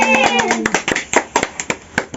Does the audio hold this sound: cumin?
no